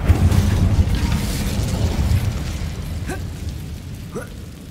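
An Incendio fire spell is cast in Hogwarts Legacy, a broad rumbling whoosh of flame that is loud at first and then fades slowly, with faint chimes near the end.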